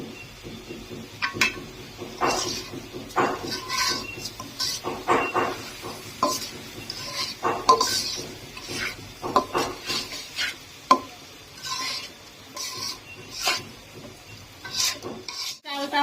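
Rice and lentils scrape and rattle in a pot as they are dry-fried and stirred, with irregular scraping strokes and a soft sizzle beneath, close and moderately loud.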